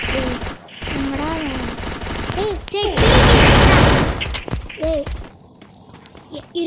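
An M10 gun firing in the Free Fire video game, with rapid automatic bursts and one long sustained loud volley near the middle, mixed with game effects and a voice speaking over it.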